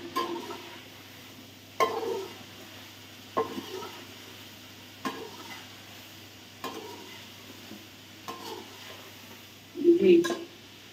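Mutton frying in a karahi for a charsi karahi, with a soft steady sizzle broken by regular scraping stirs about every second and a half, ending in a louder clatter.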